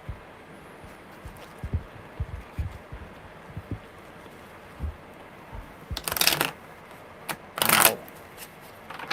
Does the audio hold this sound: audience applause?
no